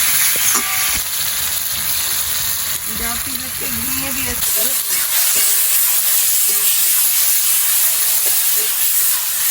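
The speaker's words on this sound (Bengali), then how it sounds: "মশলাটা ভালোভাবে কষিয়ে নিচ্ছি।" Spice paste with chopped tomato and a splash of water frying in a pan while being stirred, a steady loud hiss and sizzle with scraping spoon strokes early on, under a woman's speech.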